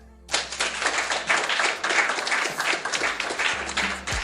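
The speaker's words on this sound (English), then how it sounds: "let's give this brother a round of applause for trying his best" A round of applause from a crowd, dense overlapping claps starting abruptly and continuing steadily at moderate loudness for a few seconds.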